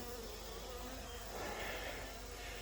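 A dense, steady buzz of many honey bees in a hive removed from a house wall, heard close up and continuous for the whole stretch with no talking.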